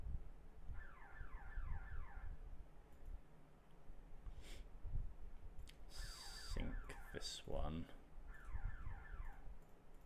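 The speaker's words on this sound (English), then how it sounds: "Apologies if people can hear the car alarm going off in" A car alarm repeats its cycling electronic tones faintly in the background while a person talks nearby over low room noise.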